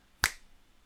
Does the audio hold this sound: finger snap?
yes